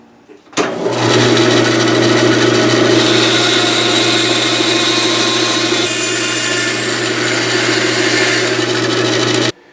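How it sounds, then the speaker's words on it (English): A bandsaw runs steadily and loud through a wooden blank, cutting a spline piece for a Les Paul guitar neck repair, starting abruptly and holding a constant motor hum with a rough cutting rasp throughout, no talking. "cut shy of that line on the bandsaw"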